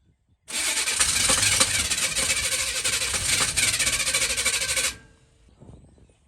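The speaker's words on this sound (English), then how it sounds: "Doesn't want to crank." A 1965 Chevrolet Nova engine cranks loudly and steadily for several seconds without catching, then the starter stops and only faint background noise remains.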